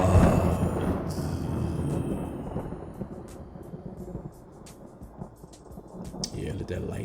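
Thunder rumbles in a storm effect with rain, opening on a heavy low crack that rolls and fades under a steady patter of rainfall, with a voice faintly present over the storm.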